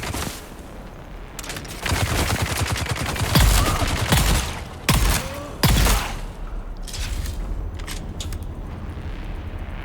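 Shotgun blasts in Dune Awakening, several loud, close booming shots in an irregular burst with crackling tails, followed by quieter mechanical clicks and action noises.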